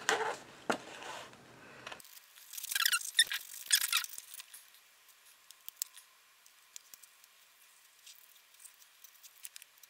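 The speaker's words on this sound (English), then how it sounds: "I'm going to cut just into the blue line." Scissors snipping through a recycled Christmas card: a few quick, crisp cuts close up, followed by a steadier run of small clicks and rustles that gradually grow fainter.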